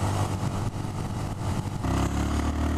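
A 2018 Honda Monkey motorcycle's small engine hums steadily during a test ride, then its pitch rises as it accelerates, a close, continuous mid-toned drone with no talking.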